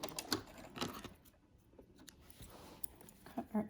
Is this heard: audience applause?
no